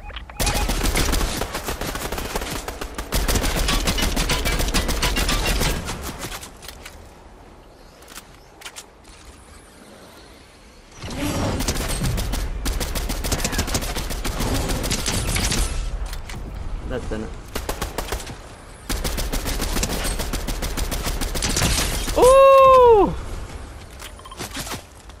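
Bursts of rapid automatic gunfire and shots in a Fortnite Battle Royale match, coming in dense volleys separated by quieter gaps, with a brief synthetic tone near the end and a voice speaking over parts of it.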